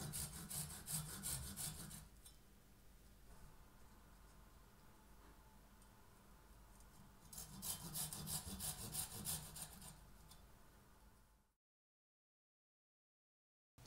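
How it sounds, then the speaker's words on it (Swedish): Hand sawing a small carving notch into a wooden popsicle stick, steady close rasping strokes in two louder bursts with quieter scraping between, then silence near the end. "Såga sedan försiktigt ett täljspår på varje sida av pinnen."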